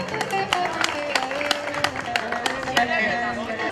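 Scattered applause at a village henna night ceremony, irregular claps of moderate loudness mixed with crowd murmur and background music as a guest is welcomed onto the stage.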